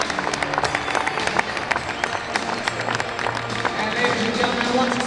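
A crowd at a basketball slam dunk final claps and cheers steadily, a dense patter of applause with scattered shouts, with a voice talking over it.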